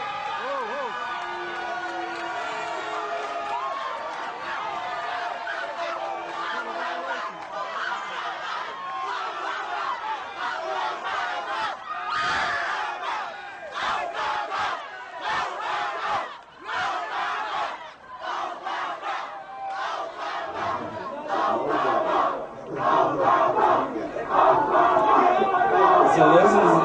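A crowd cheers and screams around someone being tasered, with excited shouting voices and chatter rising and falling in bursts over a steady murmur, growing louder toward the end.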